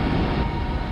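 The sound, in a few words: Huygens probe recording of winds on Saturn's moon Titan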